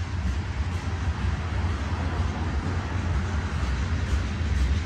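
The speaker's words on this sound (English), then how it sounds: "Another Norfolk Southern monster train under precision scheduled railroading" A Norfolk Southern 12G eastbound manifest freight train of about 202 cars passes at Cresson, Pennsylvania, a steady low rolling rumble of wheels and cars with no pauses.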